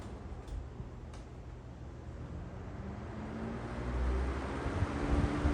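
Lakewood 200i box fan with metal blades running on medium setting, giving a steady low whirring hum with a faint tonal drone that swells slightly toward the end, heard alone.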